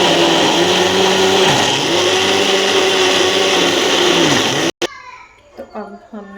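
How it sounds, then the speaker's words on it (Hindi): A kitchen blender grinds hard ginger into paste with a loud, steady whirring roar that dips in pitch as it labors, then cuts off abruptly, followed by faint clattering and handling noises. "पहले अदरक डालेंगे, तो अदरक हार्ड होता है तो ग्राइंड करेंगे इसे।"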